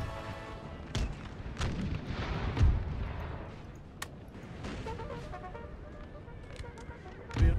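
Cannon and artillery fire in a large Total War battle between Great Britain and Spain, with scattered booms and sharp reports over a constant rumbling battlefield din.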